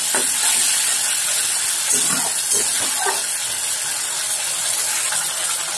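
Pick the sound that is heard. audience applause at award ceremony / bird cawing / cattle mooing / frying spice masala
frying spice masala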